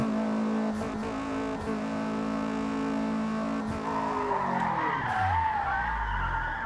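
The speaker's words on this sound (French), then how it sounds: "Petit frein à main, tu vois." Car in the racing video game Forza Motorsport locking into a handbrake skid, a sustained screeching tire squeal rising and sliding in pitch over a steady engine drone, loud and close with no talking.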